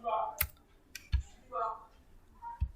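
Computer mouse clicks come as a few sharp, close taps while renaming a folder, scattered among short bursts of talk.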